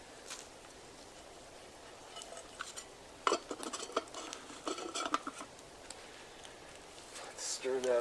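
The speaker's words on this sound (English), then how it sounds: "Let's stir that up with my new spoon." Spoon scraping and clinking against a camp pot while stirring a rehydrated meal outdoors on an overnight trip in the Pecos Wilderness, a cluster of close metallic taps and scrapes over quiet background with soft rustling.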